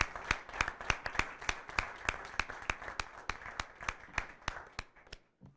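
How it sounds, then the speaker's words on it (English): A school board meeting audience claps in a steady, evenly spaced rhythm of sharp individual hand claps, fairly close and distinct, fading out at the end. "Please join me in a round of applause."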